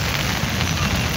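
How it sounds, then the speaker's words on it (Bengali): Heavy monsoon rain pours at a large outdoor cattle market in Old Dhaka during a thunderstorm, a dense, steady hiss of drops drumming on surfaces, loud and close. "খুব পানি, বৃষ্টি,"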